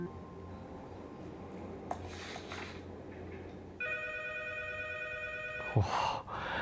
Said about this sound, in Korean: 现在听到这电话铃声都好不安哦。